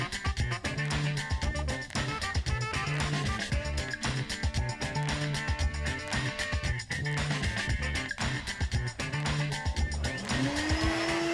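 A CNC machine cutting out a wooden maze during the cleanup pass, a loud continuous motor-and-spindle whine with rhythmic chattering bursts as the bit clears leftover bits, alone without talk, a rising tone near the end.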